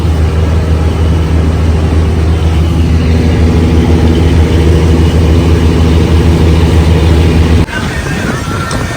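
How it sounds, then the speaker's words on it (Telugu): A heavy engine thrums loudly inside the engine room of a Somasila–Srisailam tourist boat, a deep, constant drone with strong low hum that cuts off abruptly near the end. "ఇది మనకు ఇంజన్ రూమ్ చూడండి"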